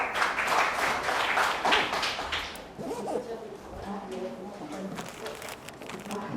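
Audience applause at a lecture hall session, a brief burst of clapping that fades after a couple of seconds as a voice begins speaking over the room.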